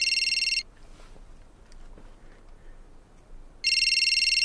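A trilling electronic telephone ring in a radio drama, one burst at the start and another after about three seconds of quiet room tone, loud and close.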